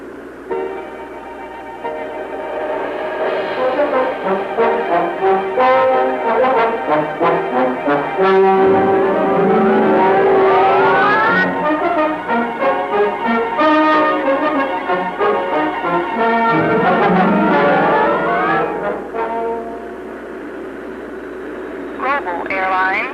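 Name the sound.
Lockheed Electra airliner landing and stopping on runway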